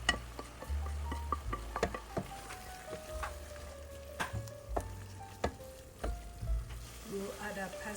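Ground beef sizzles and crackles steadily in a pan for a quick pasta dinner with grape tomatoes, with scattered sharp pops and stirring clatter throughout.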